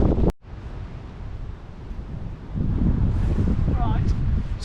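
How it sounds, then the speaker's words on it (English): Gusty wind buffets the microphone on a winter riverbank of the Severn, a steady broadband roar that swells louder in the second half, with brief sounds of movement near the end. "The wind got so bad, it's getting worse."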